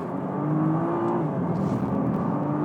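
A 2013 Nissan GT-R on a hot lap at Spa: a steady, loud, close engine drone with a constant sustained tone and a slight pitch shift, on road tires with no talking.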